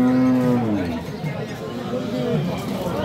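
A young heifer calf at a rural cattle market gives a loud, low moo at the start, with market chatter and voices talking around it.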